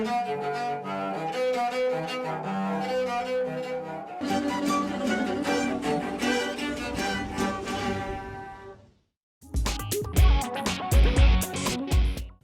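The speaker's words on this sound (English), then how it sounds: "This cello is made from an oil can and wood that was thrown away in the garbage." A homemade cello built from an oil can and scrap wood, with a rough, buzzy tone, plays sustained notes and short phrases, stops briefly, then resumes with sharper, choppier strokes.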